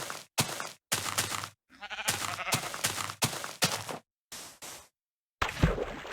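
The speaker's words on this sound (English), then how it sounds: "Oh, we have tons of sheep down there," Minecraft sheep heard amid a flock, with a quick sequence of short, sharp game noises and one or two wavering bleats mixed in, all loud and close with brief gaps of silence.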